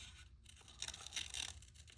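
Paper pieces for a fall junk journal are cut out by hand, soft crisp snips and paper rustles sounding close but faint against a quiet background.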